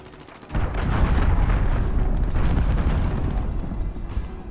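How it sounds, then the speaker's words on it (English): A cruise missile strike in Call of Duty: Modern Warfare lands with a sudden heavy boom, followed by a sustained, rumbling roar of blast and debris that stays loud and close without talk. "Enemy cruise missile, take cover."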